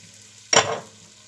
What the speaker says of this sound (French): je mélange de façon à bien imprégner de beurre mon oignon